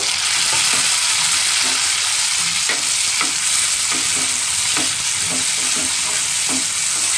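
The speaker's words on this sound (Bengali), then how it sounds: "একটু তেল দিয়েছি, তার ভিতরে কালো জিরা ফোড়ন দিয়েছি, আর পেঁয়াজ রসুন কুচানোটা দিয়ে হালকা ভাজা করব।" Chopped onion and garlic frying lightly in a little oil with black cumin, a steady close sizzle with intermittent scraping stir strokes, no voices.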